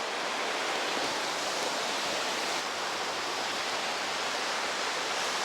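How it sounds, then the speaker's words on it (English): The Truckee River in Reno, Nevada rushes past in a dense, steady roar of flowing water, loud and continuous throughout with no talking. "Now this is the Truckee River"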